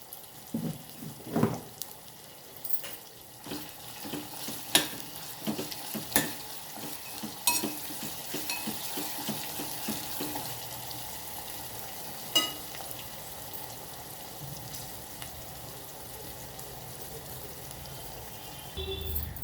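Onions softening in a pan with salt for a lunch box recipe, a continuous sizzle heard up close, with scattered clinks and scrapes of a spoon stirring, busier at first and then settling into a steady hiss.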